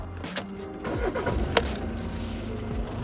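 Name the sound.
Volkswagen Golf VII 2.0 TDI engine starting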